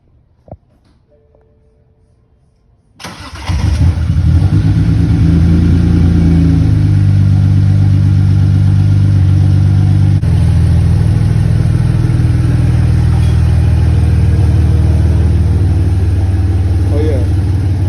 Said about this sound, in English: I'm gonna give you guys a cold start real quick.